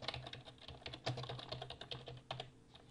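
Typing an address on a computer keyboard: quick, irregular clicks and clacks of keys close up, with a few heavier strokes, continuous for about three seconds with no talking.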